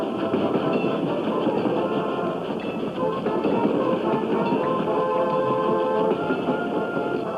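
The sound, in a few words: trains full of soldiers approaching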